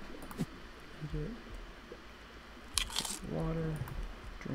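Game character eating food in Raft, a few short crunchy chewing bites under intermittent talk, fairly quiet against faint background water.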